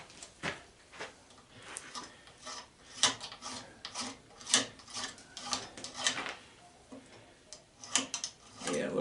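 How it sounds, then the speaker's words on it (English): A hand file rasping across a brass part of an old air compressor, irregular scraping strokes close by, some quick and sharp, others longer, with short pauses between them. "Let me scrape those with the file."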